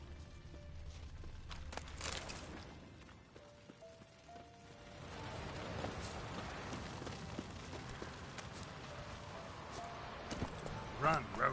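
Hooves of the horse Roach galloping in The Witcher 3, a rapid clip-clop rhythm over game music and ambience, with voices speaking over it.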